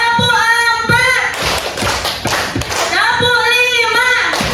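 A group claps in counted sets at a teachers' program session, sharp hand claps in a rhythmic pattern between stretches of sung or chanted voices.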